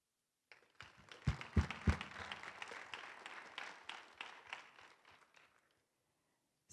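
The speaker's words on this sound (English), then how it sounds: "I think you deserve a round of applause." An audience at a convening breaks into applause, starting with a few sharp loud claps and settling into a steady moderate patter before fading out to silence.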